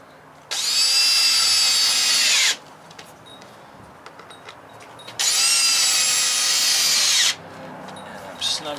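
Power drill drives No. 8 by 1¼-inch brass wood screws into a van bed platform, two loud whirring bursts of about two seconds each with quiet handling noises between them.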